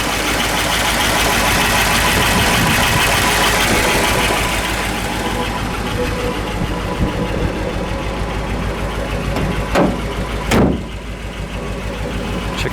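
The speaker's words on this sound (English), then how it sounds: "the motor runs great" A 1959 Ford Galaxie 500's engine runs steadily with a loud, even rumble that eases after a few seconds, then carries on at a lower idle, broken by two short sharp noises near the end.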